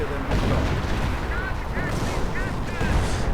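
Katyusha rocket artillery fire in a WWII strategy game rumbles as a dense, continuous barrage of booms, with several short whistling rocket streaks rising through the noise.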